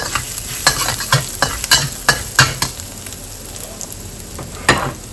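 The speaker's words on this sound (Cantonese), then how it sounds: "跟住呢，就倒嗰啲蒜蓉、薑蓉落去起鑊，因為 bacon 呢有好多油喺度，唔使再放油噶啦" Garlic and ginger stir-frying in bacon fat in a wok, a continuous crackling sizzle marked by a string of quick rhythmic spatula scrapes and knocks against the metal, close and fairly loud.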